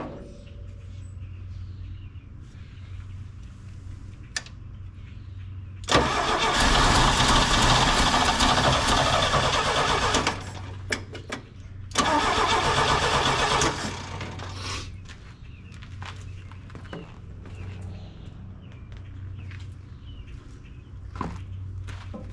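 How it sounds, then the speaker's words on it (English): A 1968 GMC pickup left in a field for 27 years cranks over in two sustained bursts of loud starter churning, separated by a brief pause, with quieter idle-like rumble and shuffling around them. "Let's turn it over, see if fuel comes out of there."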